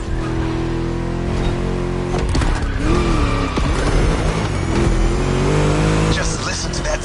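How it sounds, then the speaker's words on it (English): A V8 car in The Crew Motorfest revs loud and close, its deep, throaty engine rising and falling with tire noise during a race while a voice talks over it. "Just listen to that V8, like a chunky, down-tuned guitar riff."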